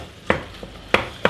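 Beef mince browning in a pan, a low sizzle under three sharp scraping taps of a utensil stirring it, close and brief.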